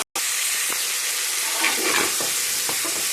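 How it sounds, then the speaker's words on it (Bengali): Diced potatoes frying with onions in a pan, a steady loud sizzle with soft stirring scrapes, close up and without talk. "আলুটাকে ভাজা ভাজা করে নেব।"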